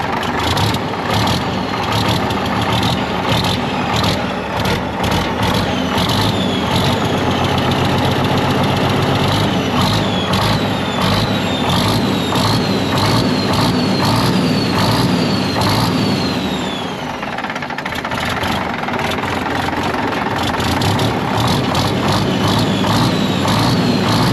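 A diesel engine with a fuel leak at the return line idles steadily and loudly up close, a continuous low rumble with rattling, clattering knocks running throughout.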